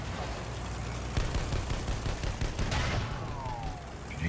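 Battlefield 1 battlefield gunfire around a heavy tank and an anti-tank gun, a steady dense rattle of shots with sharper cracks near the middle, loud and continuous without talk.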